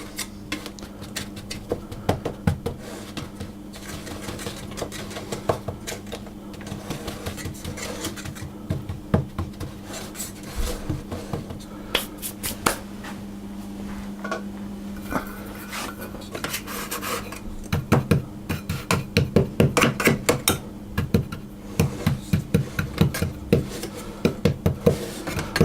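Biscuit crumb base being pressed flat into a springform cake pan for a lemon icebox cheesecake, a long run of close, gritty scraping and tapping against metal, steady and fairly loud, with no voices.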